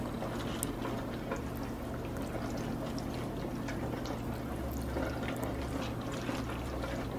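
Blended tomato sauce with garlic, cumin and chicken bouillon being poured onto beef in a pan, a steady, continuous liquid pour and bubbling hiss at moderate level throughout, no speech.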